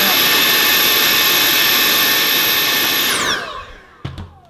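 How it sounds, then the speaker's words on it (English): A vacuum cleaner runs loudly with a steady high whine in a bike workshop during work on a Cannondale bike frame, then spins down and stops, followed by a couple of sharp knocks. "So we'll get the vacuum"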